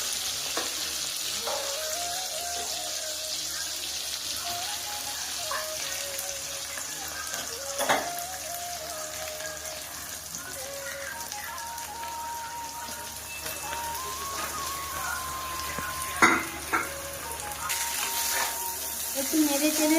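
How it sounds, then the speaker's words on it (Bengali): Chowmein noodles with tomato frying in a pan in a village kitchen, a steady close sizzle with occasional scraping clatters of stirring throughout, and no voice over it. "একটু নেড়ে চেড়ে চাউমিনটাকে ভেজে নেব"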